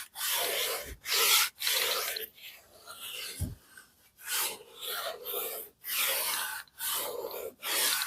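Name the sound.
buffing leather car seat with premium instant polish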